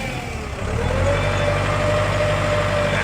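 A used Kubota tractor runs close by with its rear PTO turning, giving a steady, loud engine drone that holds evenly throughout, no voices over it.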